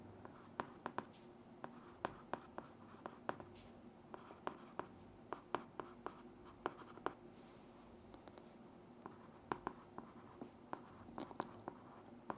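Marker strokes squeak and tap across a board in quick, irregular bursts, close and fairly quiet, with no voice over them.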